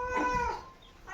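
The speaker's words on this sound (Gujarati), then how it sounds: "રસોડામાં બિલાડી પણ આવી ગઈ છે." A cat meows in a home kitchen, one drawn-out tonal call followed by a shorter rising cry, fairly close and clear over quiet room background.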